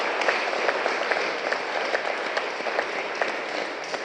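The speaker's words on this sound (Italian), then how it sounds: "quindi vorrei un applauso da parte vostra." An audience applauds a bishop marking 25 years of episcopate, a sustained crackle of many hands clapping at a moderate, even level from start to finish.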